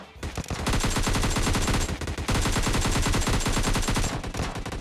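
Sustained rapid automatic gunfire in a battle royale video game, loud, dense bursts of shots hammering in fast rhythm with only a brief pause, no voices over it.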